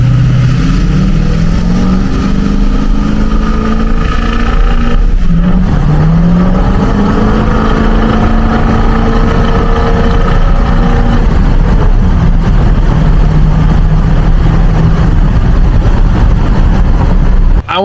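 A 22-year-old 6.0 diesel truck with its blown turbo replaced revs and accelerates, its engine drone climbing and falling through gear changes, loud and close for the whole stretch.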